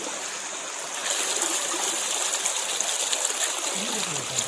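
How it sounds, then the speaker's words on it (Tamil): Natural stream water flows near a village on the Tamil Nadu–Kerala border at Kanthalur, a continuous close rushing and trickling that grows slightly louder after the first second. "நல்லா நேச்சுரலா வரக்கூடிய தண்ணி"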